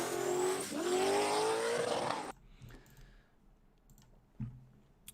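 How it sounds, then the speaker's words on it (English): Turbocharged race car blasting loudly at full throttle for about two seconds, then a sharp lift-off as the turbo blow-off valve releases, followed by faint clicks and a quiet background. "you can hear the blow off valve right there"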